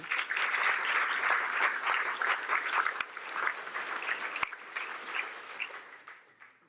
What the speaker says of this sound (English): I think we owe her a round of applause again.